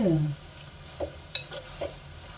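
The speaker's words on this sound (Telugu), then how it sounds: "మంచిగా వేయించుకోవాలి కరకరలాడినట్టు" Bitter gourd pieces fry to crisp in a pan for a spicy Telugu karam podi. A faint, low sizzle runs underneath a few scattered soft spatula taps and scrapes.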